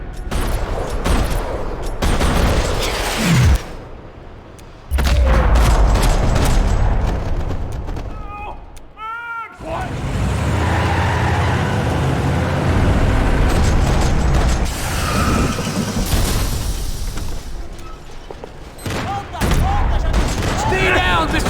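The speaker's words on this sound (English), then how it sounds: "Another parking lot rattling with gunfire." Dense gunfire in a parking lot shootout from the video game Max Payne 3, with loud rattling bursts, sharp shots and mechanical clatter broken by brief gaps, while a voice talks over the action.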